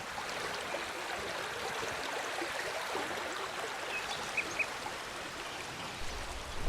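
The Francolí river at Font de la Ceba flows in a steady, soft rushing wash, with a few faint bird calls above the water.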